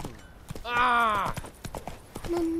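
Horse hooves in The Witcher 3 clatter in a quick run of sharp clip-clops, close and fairly loud, with a brief whinny-like cry early on.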